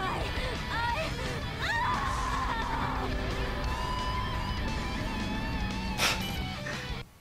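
Screams in the Sonic and the Black Knight video game, several rising and wavering yells and cries over game noise, mid-loud, ending in a sharp burst near the close.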